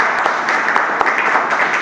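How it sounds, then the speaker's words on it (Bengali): An audience claps briefly at a health product seminar, with dense, even applause throughout. "একটা হাততালি হয়ে যাক"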